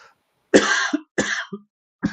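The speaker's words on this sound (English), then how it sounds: "sorry, I'm coughing." A man coughs in three harsh, separate bursts, each with a short follow-up catch, close to the microphone against silence.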